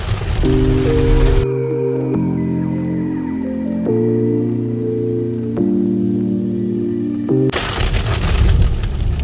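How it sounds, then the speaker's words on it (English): Heavy rain pounds loudly on the roof of a 2024 Mazda CX-90, easing in the middle under a steady low droning hum, then surging again. "now it's also raining pretty hard"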